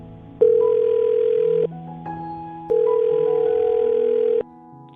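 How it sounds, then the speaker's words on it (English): A telephone tone plays while a phone number is dialed for a call: two long, steady electronic beeps separated by a short pause, loud and close with no one speaking. "I'm going to dial her phone number right now"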